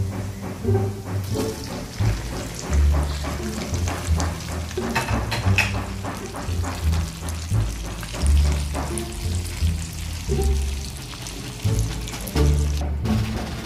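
Shrimps dropped into a hot pan with browned garlic sizzle and fry steadily, with periodic scraping stirs and clatters over the continuous hiss.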